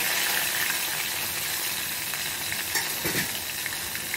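Tomatoes fry in hot oil with cumin and curry leaves, giving a dense, steady crackling sizzle with a brief soft stir near the end; close and loud, with no talking.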